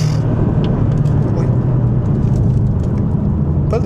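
A Porsche 718 Boxster GTS drives along with a steady, dense engine and road rumble, loud and close, with faint higher rattles and no voices over it.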